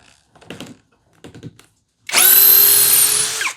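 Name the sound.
impact driver drilling into Cambará wood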